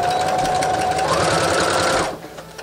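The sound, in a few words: sewing machine stitching a vegetable bag seam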